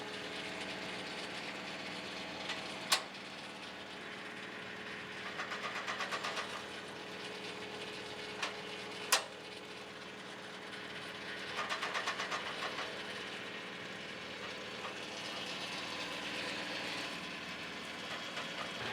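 A PTO-driven TMG FW40T skidding winch hauls in its cable, a low engine drone with ratcheting clatter in short bursts and a couple of sharp metallic clicks, heard alone outdoors.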